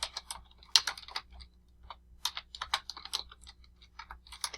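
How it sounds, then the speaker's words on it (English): Typing on a computer keyboard for a typing exercise: quick clusters of key clicks in irregular bursts, close and fairly quiet, with no talking. "let's type in whatever it is we're supposed to type in"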